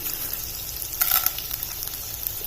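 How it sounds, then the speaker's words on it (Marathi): Small pieces of edible gum (dink) frying in hot fat in a pan, a close hissing crackle with a brief louder burst of bubbling partway through, no talk. "आपल्याला डिंक तळून घ्यायचा आहे याच्यात"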